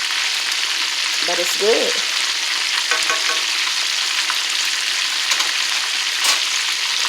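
Chicken drumettes without breading browning in a pan give a loud, continuous sizzle and crackle, with faint clinks of a utensil and a brief voice speaking over it.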